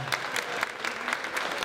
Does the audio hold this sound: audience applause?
yes